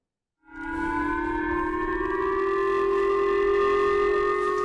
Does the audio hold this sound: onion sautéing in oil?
no